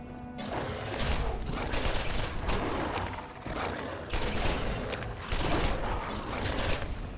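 Rapid automatic gunfire from a fast-firing weapon in the video game Borderlands, sustained bursts of dense shots broken by brief pauses, loud and close with crackling impacts.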